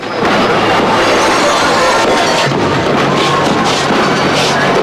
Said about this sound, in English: at an outdoor fireworks show